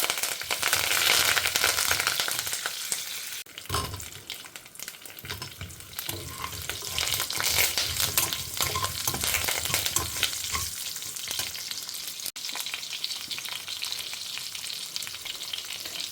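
Mustard seeds, cumin and curry leaves fry in hot oil for drumstick sambar, a loud, dense crackling sizzle with spattering pops and a few stirring thumps, continuing steadily throughout.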